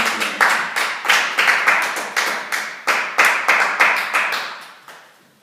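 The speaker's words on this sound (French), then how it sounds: "Une bonne acclamation, une bonne acclamation." Church congregation clapping in acclamation, loud rapid bursts of clapping with reverberant decay after each cluster, rising and falling in waves before fading out at the end.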